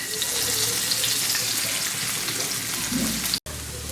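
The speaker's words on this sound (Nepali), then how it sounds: "यसलाई चाहिँ म हल्का साइडमा राखेर यसमै अन्डा फ्राई गर्छु।" Egg frying in a pan, pushed to one side, while making Nepali chow chow noodle soup. A steady close hiss and sizzle runs throughout, with one brief break near the end.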